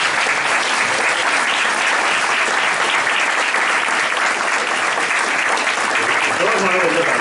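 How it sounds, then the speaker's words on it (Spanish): Sustained applause from an audience at a round-table conference session, a dense, steady clapping that fills the whole stretch, loud and close, with some voices mixed in beneath it. "Yo quiero que ustedes se aplaudan a ustedes mismos por estar aquí."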